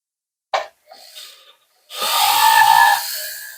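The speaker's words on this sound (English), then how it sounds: "I usually go ahead and I switch to a rubberized polishing wheel" A rubberized polishing wheel runs against a metal prong setting holding a faceted gem, giving a short tap near the start, some light contact, then a sustained steady whirring grind for over a second before it eases off.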